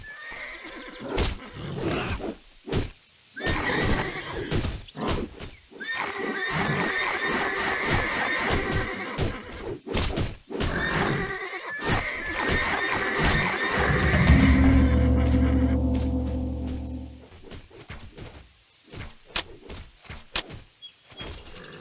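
Horse neighing and whinnying in the video game Titan Quest, several loud whinnies rising over a busy bed of game music and crowd-like cheering, with occasional hoof clip-clops and bird chirps.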